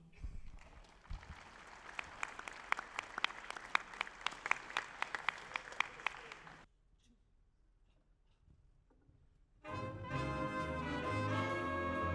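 Warm audience applause at an Ontario community show band concert, a dense patter of many hands lasting several seconds before fading into a brief hush, then the band strikes up a swing tune.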